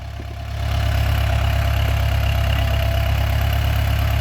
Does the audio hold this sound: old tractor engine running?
yes